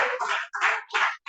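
A church congregation claps together in a short loud burst, several broad rhythmic waves of hand claps close by with no talking over them.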